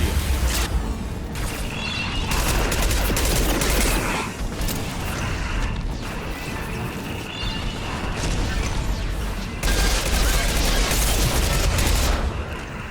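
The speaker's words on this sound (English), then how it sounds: "Firing anti-ship batteries at collector vessel." Anti-ship batteries firing repeatedly at the Collector vessel in Mass Effect 2, a loud, dense barrage of heavy blasts and mechanical clanking, pulsing in waves with bursts of sharper impacts throughout.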